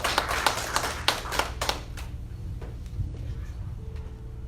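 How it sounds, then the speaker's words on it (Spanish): A church congregation applauds briefly during a Sunday service, a burst of close clapping that thins and fades after about two seconds into quiet room tone with a few scattered claps. "vamos a darle un fuerte aplauso por la vida de él"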